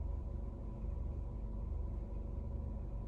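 A parked car idles with the listener sitting inside, giving a steady low rumbling hum with a faint pulsing throb that stays constant and unbroken throughout, with no talking.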